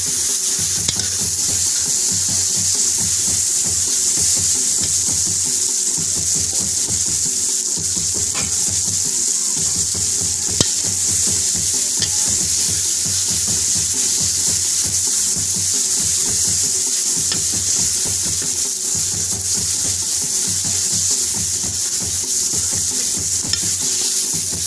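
Chicken being stirred and fried in a pan, giving a continuous close sizzle with rhythmic scraping of the spoon for the whole stretch, no voices.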